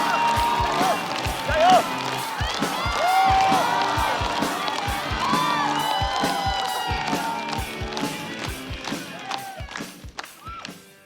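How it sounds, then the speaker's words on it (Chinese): Studio audience at a Chinese stand-up comedy competition applauds and cheers as a comedian is introduced, dense clapping and shouts at close range with a voice calling out near the start. "掌声有请门枪"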